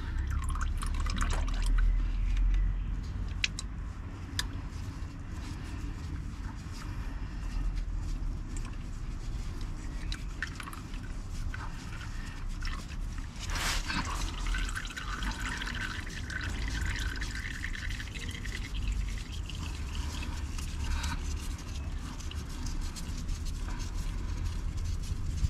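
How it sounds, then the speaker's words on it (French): Engine oil from an Audi Q2 1.4 TFSI drains into a pan in a steady, continuous trickling pour, close and moderately quiet, with a few louder splashes along the way. "desserrez doucement pour voir où ça tombe"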